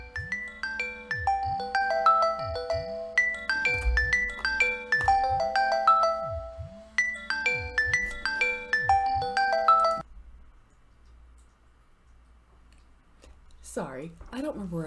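Mobile phone ringtone for an incoming call, a bright repeating melodic jingle over a pulsing low beat, loud and close for about ten seconds before cutting off into near silence.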